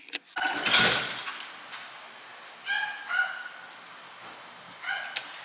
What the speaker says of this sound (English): I don't know if y'all can hear the dog barking.